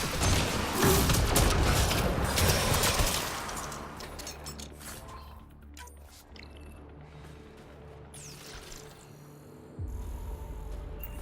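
Gunfire in the sci-fi shooter Mass Effect Andromeda, a loud dense burst of shots over the first three seconds, then quieter game ambience with a low rumble that swells again near the end.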